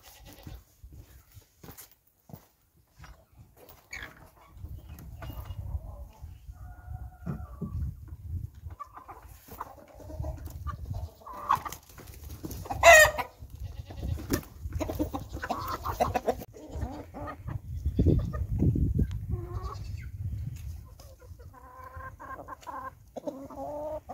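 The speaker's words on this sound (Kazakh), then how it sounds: "Енді тауықтардың есігін ашып қояйық, енді өздері далаға шығып жайыла береді." Chickens clucking and crowing near a coop as its door is opened and they head outside to forage, with goat-like bleats mixed in; a steady, fairly close farmyard chorus without talk.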